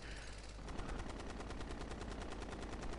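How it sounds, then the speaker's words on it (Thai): Rapid automatic gunfire in the military shooter game Ghost Recon Future Soldier, a dense, even stream of shots rattling continuously for a few seconds at moderate volume with no speech over it. "มีการยิงอยู่ด้านซ้าย"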